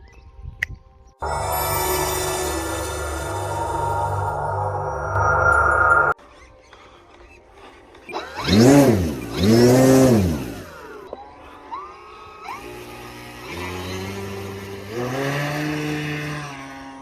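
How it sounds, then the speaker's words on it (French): A DW Hobby Savage Bobber 1880mm RC model plane engine, heard as a high, buzzing, whining drone that holds steady and then swoops up and down in pitch as the plane passes overhead, with later steady runs. "Le moteur tire quand même très fort."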